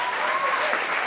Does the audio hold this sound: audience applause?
yes